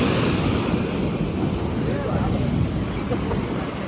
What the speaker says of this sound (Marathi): या लाटांचा आवाज बघा कसं येतात जोरदार